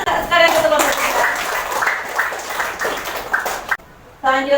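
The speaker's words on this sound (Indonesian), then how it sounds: "Beri tepuk tangan sekalian untuk kelompok 3." A class of students clapping for group 3 in a classroom, a dense burst of hand claps that fades before brief talk returns at the end.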